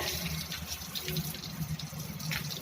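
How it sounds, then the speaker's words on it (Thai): Tap water runs steadily while an elephant's ear wound is washed, a continuous low splashing and trickling stream with faint voices murmuring in the background. "น้ำเปิดค่อยๆปล่อยทิ้งไว้เลยครับ"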